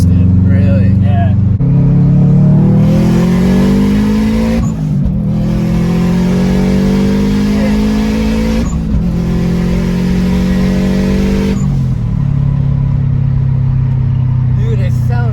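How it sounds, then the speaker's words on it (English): A big-turbo, STI-swapped Subaru Forester with an external wastegate revs and pulls hard from inside the cabin, rising through gears in long loud surges with brief drops between shifts; people talk under the engine. "That external wastegate sounds crazy"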